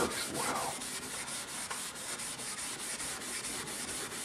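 Steady rubbing of pumice rub-out abrasive over the finish on a 1920s Montgomery Regal, a continuous close scratchy friction with faint regular strokes, no voices.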